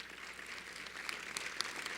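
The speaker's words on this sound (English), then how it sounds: "Helen, stand up and let's give you a round of applause." An audience at an award ceremony gives a guest a brief round of applause, soft and distant clapping from a crowd, faint and steady with a few sharper claps standing out.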